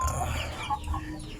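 Chickens clucking close by, a short burst of fowl calls, likely shamo and asil gamefowl, with soft overlapping clucks over a brief moment.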